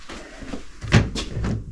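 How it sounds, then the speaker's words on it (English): A locked back door leading outside, beside a newly built bathroom, is tried several times, giving a few close, loud rattling clunks of the handle and frame. "that is the back door that takes you outside"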